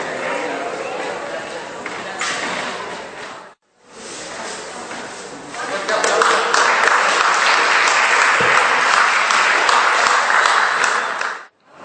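An audience at a spiritual seminar applauds its volunteers: loud sustained clapping that breaks off briefly, then swells fuller and steadier before stopping abruptly.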